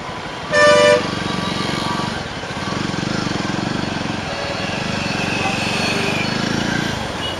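A Jawa 42 motorcycle carrying a pillion rider hums steadily through city traffic. A loud car horn honks briefly near the start, and the engine and road noise carry on continuously throughout.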